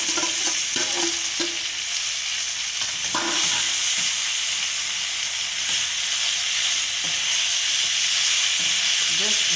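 Curry leaves and groundnuts sizzling in hot oil, then poha added, a loud, steady close frying hiss with intermittent stirring scrapes and clatter throughout.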